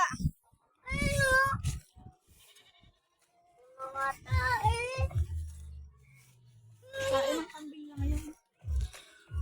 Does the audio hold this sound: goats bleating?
yes